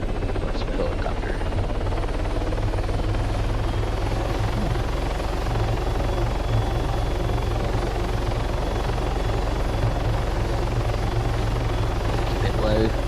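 A helicopter in the video game Arma 3 flies with a steady, loud, continuous rotor thrum and engine drone that holds throughout.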